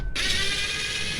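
A ratchet wrench removes a rear door speaker's screws on a Ford F250/F350 pickup, giving a brief, close, steady buzzing whir of the mechanism for about a second.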